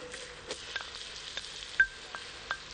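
Sliced onion fries gently in a pan alongside chopped onion already browned, a quiet, faint sizzle with scattered soft clicks and one sharper knock from stirring.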